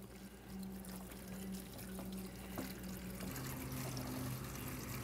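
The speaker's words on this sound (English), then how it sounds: "it's time to add some water." Water pours steadily into tomato and pepper seed trays, poured so the pots absorb it from the bottom, making a continuous trickling, splashing flow close by with no voices.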